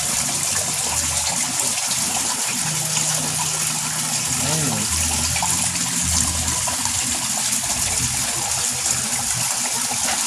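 Liquid beneficial bacteria pours into a koi pond filter, a steady gushing splash of water running continuously with a faint murmur of voices beneath.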